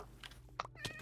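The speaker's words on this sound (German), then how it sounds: "Ne, hier ist eine Katze" A cat meows indoors with a couple of short, fairly faint calls over a low background hum, heard alone without talk.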